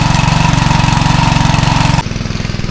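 A plowing machine's engine runs steadily in a field, loud and close with a rapid, even chugging pulse, then drops abruptly to a lower, rougher throb near the end.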